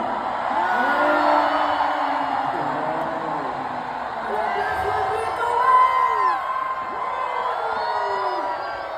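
A large crowd of fans at a concert shouts and cheers continuously, a dense roar with high whoops and screams rising and falling throughout, loud and close.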